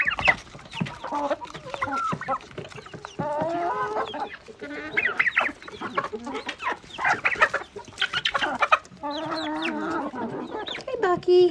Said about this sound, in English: just free ranging the birds. Giving them treats.